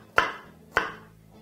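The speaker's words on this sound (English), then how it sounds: "now proceed to finish chopping the rest of your onion" Two sharp knife chops through an onion on a cutting board, spaced about half a second apart, close and clear with no talking.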